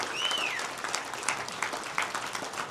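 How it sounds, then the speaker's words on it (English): Forum audience applauding gubernatorial candidates, a warm burst of clapping with a whistle at the start, then scattered louder claps as it thins out. "Let's give our gubernatorial candidates a big warm round of applause"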